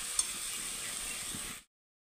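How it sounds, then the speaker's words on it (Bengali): Food frying in a pan over a low gas flame while turmeric powder cooks in, giving a steady, soft hiss that continues evenly and then cuts off abruptly. "লো ফ্লেমে গ্যাসটা দিয়ে একদম লাহে লাহে ভেজে নেব ভালোভাবে।"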